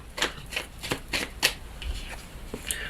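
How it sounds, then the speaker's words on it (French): A deck of tarot cards is cut and shuffled by hand in a quiet room, giving a run of soft, crisp riffling snaps spaced fairly evenly over a few seconds, close to the listener. "On va faire une coupe et on va prendre 6 cartes."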